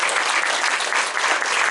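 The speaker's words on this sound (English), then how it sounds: "Give her a round of applause." Steady audience applause at a screening and discussion event, dense and even throughout with no talk over it.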